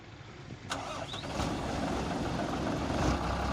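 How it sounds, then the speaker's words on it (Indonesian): A large truck engine cranks and catches, then settles into a steady rumbling run that continues to the end. "langsung hidupkan Bang mesinnya"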